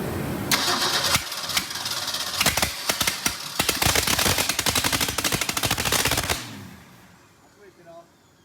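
A Ford 289 V8 with no headers cranks and fires for the first time in over ten years, a rapid, loud, uneven run of popping combustion bursts that rumbles for several seconds before cutting off abruptly.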